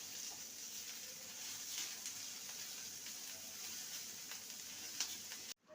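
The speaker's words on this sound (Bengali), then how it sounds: "পেঁয়াজটাকে হালকা ভেজে নেবো" Onion fries lightly in a pan, giving a soft continuous sizzle with faint crackles and small stirring clicks, steady and fairly quiet throughout before it cuts off abruptly near the end.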